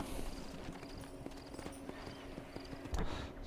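Rhythmic hoofbeats of a horse clip-clopping at a steady walk in a video game, faint and even, with light background ambience.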